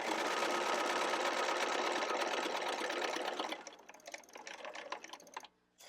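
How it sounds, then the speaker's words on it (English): A sewing machine runs steadily through a cloth napkin for about three seconds, then slows into a few short, uneven bursts of back-tack stitches before stopping. "I'm going to back tack just a couple stitches"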